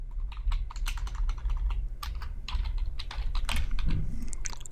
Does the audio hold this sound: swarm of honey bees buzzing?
no